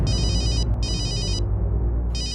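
A telephone rings loudly and close in a household drama scene, with two bursts of electronic trilling separated by a short gap and a third burst starting at the end.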